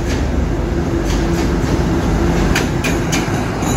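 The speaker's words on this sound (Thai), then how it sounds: "ก็ค่อยเคลื่อนขบวนนะครับเข้าสู่สถานีสุราษฎร์ธานีในชานชาลาทางที่1นะครับ จะเป็นอัลสตอมเครื่องแคทเทอร์เพลล่าหมายเลข" An SRT Alstom diesel locomotive with a Caterpillar engine, number 4143, pulls rapid train 167 into platform 1 at Surat Thani station. Its close, loud, steady engine rumble blends with rolling wheel clatter on the rails.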